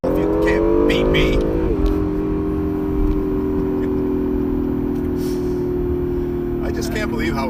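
A car engine revs up and then holds a steady high-pitched drone at high revs for several seconds, loud and close, with people talking over it.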